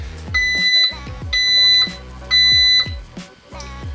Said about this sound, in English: there's a very annoying beep